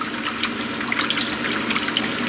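Water runs steadily into the built-in pre-wash sink of a washing machine, a continuous close splashing hiss over a brief stretch.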